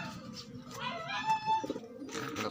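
Pigeons coo close by in short, soft throaty bursts, several calls overlapping with faint rustling between them.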